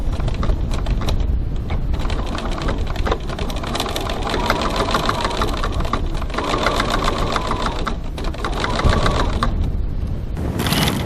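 A sewing machine runs steadily, top stitching a 6mm seam around a crossbody bag at a 3.3 stitch length, its rapid mechanical clatter loud and continuous with a brief slowdown near the end.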